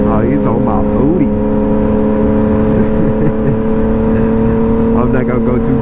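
A Ford Mustang GT drives close behind a Yamaha MT-09 motorcycle, its steady engine drone and whir running continuously at a fairly loud level beneath constant road and wind noise.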